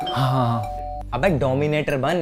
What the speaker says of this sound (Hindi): कब से डोरबेल बज रही है? खोल क्यों नहीं रहे हो?